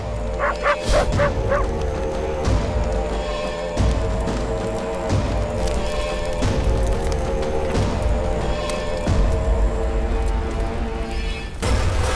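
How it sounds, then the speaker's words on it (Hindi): Several dogs bark and yip loudly and continuously in a dense, repeated chorus, with whimpering yelps mixed in, close by and dominating the scene. "कुत्ते भौंक रहे हैं, जाके देखो कौन है।"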